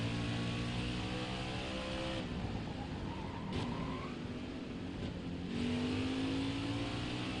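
A NASCAR race car engine in NASCAR Heat 5 at Road America, a loud, close, steady roar whose pitch climbs as the throttle opens, dips briefly at a shift, then rises again.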